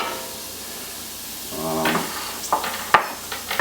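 Onion, garlic and celery hitting a hot pan after browned meat is removed: quiet at first, then a rising sizzle of frying with scraping and stirring clatters near the microphone.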